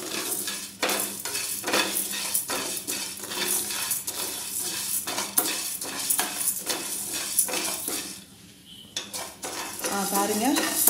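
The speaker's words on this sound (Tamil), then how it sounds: "அரிசி நல்ல சவுண்ட் வந்தோடனே ஸ்டவ் சிம்மில் வச்சுருங்க" Rice and urad dal fry in a hot pan while kozhambu masala is prepared, giving a steady dry crackle with repeated clinks of a spoon stirring against the pan, briefly quieter near the end before the stirring resumes.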